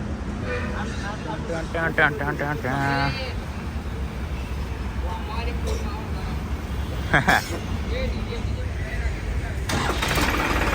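A New Holland 3630 tractor engine cranks and catches, then settles into a steady low rumble, with people talking over it throughout.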